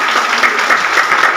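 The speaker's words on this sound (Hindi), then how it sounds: "आपकी जोरदार तालियों के साथ" Dense, steady applause from a crowd at a Congress party workers' meeting in a garden hall, loud and continuous throughout.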